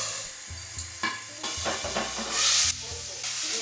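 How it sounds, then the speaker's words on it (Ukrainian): Rice poured into a pan of hot oil for risotto sizzles and hisses in bursts, with a loud steamy rush midway and clatter of stirring, close up with no talk. "Висипаємо рис."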